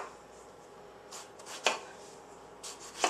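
A knife slicing the end off an eggplant on a cutting board: a soft rubbing stroke, then two crisp chops about a second and a half apart, close and quiet with no voices.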